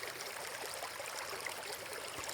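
A wide stream runs through a grassy meadow, giving a steady, even rush and trickle of flowing water, moderately close and without pause.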